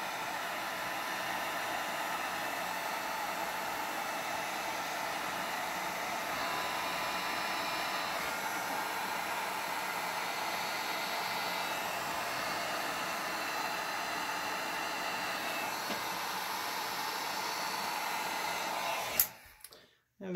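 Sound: heat gun warming epoxy on a tumbler

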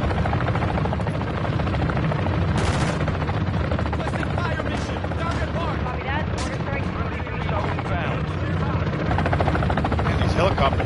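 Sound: helicopters in video game Modern Warfare III

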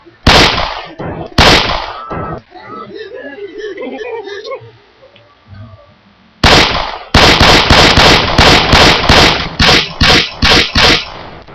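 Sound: gunfire in the video game Left 4 Dead 2

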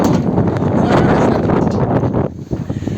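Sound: strong wind

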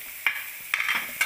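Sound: spring onions frying and stirred in pan for aloo paranthas

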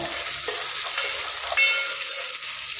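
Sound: shallots frying and sizzling in pan

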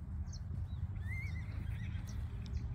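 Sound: horse neighing

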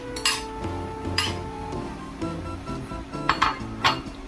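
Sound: stirring macaroni soup in a pot

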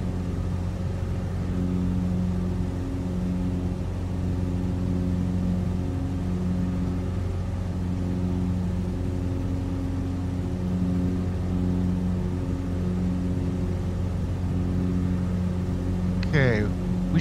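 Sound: bush plane engine in Microsoft Flight Simulator video game

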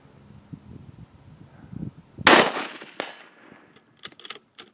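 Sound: Mossberg MVP rifle shooting

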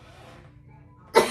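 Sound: cough

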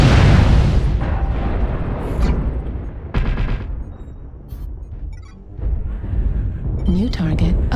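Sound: artillery strike explosions in a video game

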